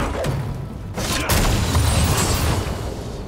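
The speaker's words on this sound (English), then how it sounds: "Red Team's turret has been destroyed." Turret crumbling in League of Legends, a dense rumbling burst of booming impacts and debris that starts abruptly and keeps going loud and steady to the end, with no talk.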